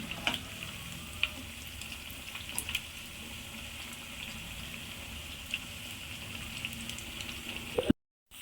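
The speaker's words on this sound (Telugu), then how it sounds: "వీటిని బాగా ఫ్రై చేసుకుందాం" Motichoor boondi fry in hot oil for a sweet-shop style laddu, giving a steady, dense sizzle with a few sharper crackles and clinks throughout, before the sound cuts out abruptly near the end.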